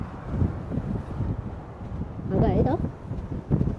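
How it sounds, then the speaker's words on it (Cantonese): Strong wind buffets the microphone in a steady roar high in the mountains of Tibet's Ali region, under continuous close conversation. "黐線嗰啲風"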